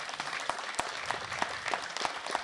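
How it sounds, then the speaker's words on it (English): Audience gives a round of applause for a troop of Boy Scouts at a public event, with continuous crowd clapping punctuated by a few sharper, louder individual claps standing out near the microphone. "can I get another round of applause for our Boy Scouts of Heart Mountain?"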